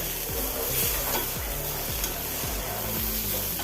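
Onions fry in a pan for dried shark fry, giving a loud, steady sizzle with repeated scraping stirs of a utensil through the pan.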